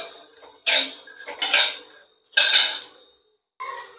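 Grated coconut roasting with a little oil in a pan over a low flame for a village-style chicken curry, heard as four short bursts of scraping and clinking from stirring, close and fairly loud, with quiet gaps between.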